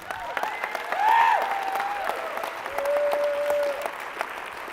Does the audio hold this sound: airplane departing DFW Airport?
no